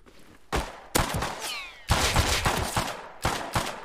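Gunfire in the survival shooter Rust: several loud, sharp shots in quick bursts with short gaps between them, close and alone with no talking.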